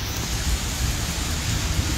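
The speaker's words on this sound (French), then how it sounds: "La pluie, la pluie, la pluie." Steady rain hisses as a dense, even wash of noise, with a low rumble beneath, constant and fairly loud without any voices.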